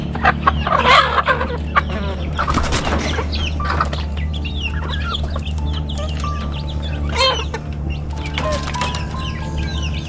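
Several chickens cluck and murmur close by, with occasional louder squawks rising over a steady low hum in the background.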